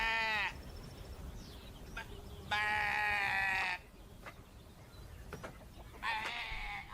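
Sheep bleating in the video game League of Legends: three loud, harmonic bleats, each lasting about a second, with quieter game noise and clicks between them.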